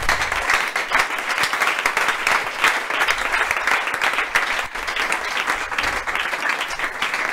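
Loud, sustained applause fills a church gathering, a dense wash of many clapping hands with faint cheering mixed in, steady and close throughout.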